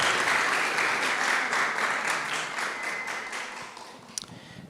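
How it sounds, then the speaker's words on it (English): Audience applause for a hackathon team at an EdTech event, a dense wash of clapping from a room full of people that gradually thins and fades, ending with a few isolated claps and a knock. "Clap your hands for MindBlow"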